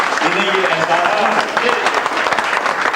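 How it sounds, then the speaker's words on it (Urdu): Audience applause at a Urdu book launch ceremony, a dense, steady wash of clapping from a crowd filling the whole stretch, with faint voices mixed underneath. "آپ سب ایک دفعہ پھر زوردار تالیاں"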